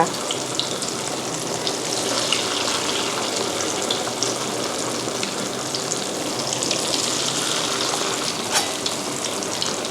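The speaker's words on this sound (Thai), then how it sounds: "ที่เราใช้ไฟกลางถึงไฟอ่อนในการทอดเพราะว่าเผือกมันยังดิบอยู่ด้วยนะคะ" Taro pieces fry in oil over medium-low heat with a steady, even sizzle and fine crackling, close and continuous throughout.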